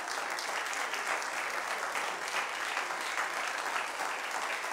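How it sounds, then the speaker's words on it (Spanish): A church congregation breaks into dense, sustained applause, many hands clapping in a thick continuous wash at even loudness, with no one speaking over it. "aplausos, por favor"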